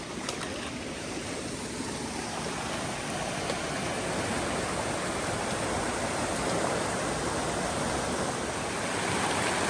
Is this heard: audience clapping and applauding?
no